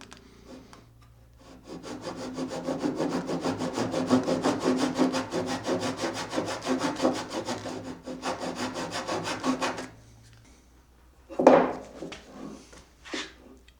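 A fine cutting tool cuts a groove into a spinning wooden leg for a Voice of Music record player on a wood lathe. A steady, close scraping runs for several seconds, followed by a few short, sharp bursts. No one speaks.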